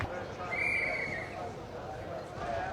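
A horse at a horse trials event gives a clear whinny near the start, set against a murmuring outdoor crowd, with a commentator speaking over the scene.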